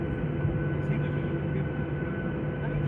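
A passenger airplane cabin fills with a steady, broad engine roar and hum as the aircraft prepares for takeoff, with voices heard faintly beneath the drone.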